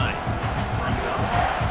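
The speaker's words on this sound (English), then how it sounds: "Listen to this crowd just shaking the girders of this place, trying to help their defense." A packed college football stadium crowd roaring in a South Carolina versus Kentucky game, a loud, continuous wall of cheering and yelling with no clear breaks.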